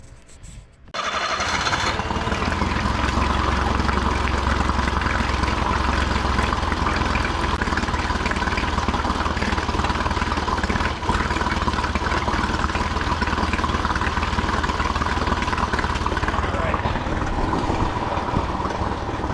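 An older Honda BF40A 40 hp four-stroke outboard motor starts and settles into a steady, loud idle after a fuel pump replacement, running continuously without cutting out.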